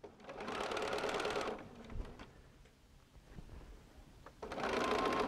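Close, quiet sewing machine stitching quilt pieces for a patriotic wind-sock quilt, running in two short steady bursts at the start and end with a softer pause of fabric handling between.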